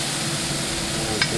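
Steak Diane ingredients sizzle in a hot frying pan while being stirred, a close, steady frying hiss with a brief scrape near the end.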